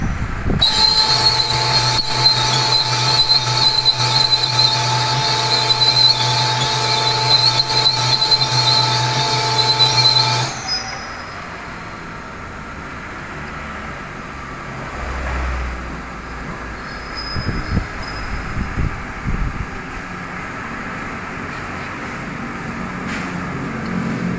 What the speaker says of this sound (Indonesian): Ini proses poles blok ini untuk penter 23.